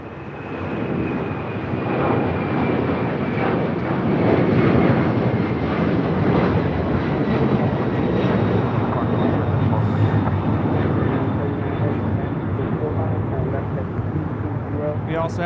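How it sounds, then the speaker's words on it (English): LATAM Airlines Boeing 767 on its takeoff roll down runway 25 right at LAX, bound for Lima, a loud, close engine roar building and holding with a rising whine, while people talk over it. "That was Latam Airlines 2479 taking off to Lima, Peru"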